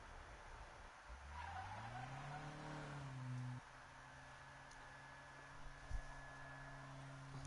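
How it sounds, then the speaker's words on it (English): Car from Need for Speed 2015 drifting and sliding into a wall: a rising engine rev with loud tire skid for a few seconds, then a lower steady drone and a single thud near the end, no talking. "I'm trying to drift, immediately head into a wall."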